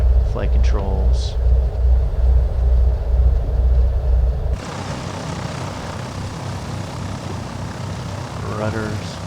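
Simulated Piper PA-44 Seminole twin engines during a run-up in Microsoft Flight Simulator 2020, a steady low pulsing engine drone that drops abruptly to a quieter, smoother hum partway through, with speech over it.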